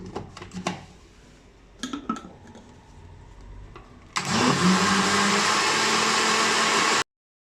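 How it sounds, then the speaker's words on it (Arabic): A few clinks and taps, then an electric blender mixing tiger cake batter with vanilla and warm milk whirs on loudly and runs steadily for a few seconds before cutting off abruptly. "وهضرب بقى كله في الخلاط"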